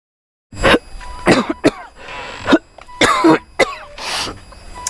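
Several harsh coughs in bursts with brief gaps, close and loud, some rasping like throat clearing.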